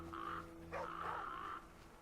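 Crows caw twice in The Flame in the Flood, a short call then a longer drawn-out one, faint over a low steady ambient hum with no talking.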